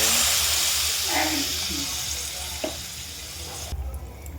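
Spices frying in hot oil for a Bata fish curry, a steady broad sizzle with occasional scraping stirs, close and fairly loud, cutting off abruptly near the end.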